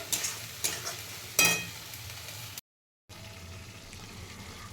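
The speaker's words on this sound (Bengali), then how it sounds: "পটলের শাঁসটা দিয়ে দিলাম এটাকে আমি একটু ভালো করে কষিয়ে নেব" Pointed gourd (potol) pulp filling is cooked down in a pan, a soft sizzle with a few louder stirring scrapes, broken by a brief silent gap before the quiet frying resumes.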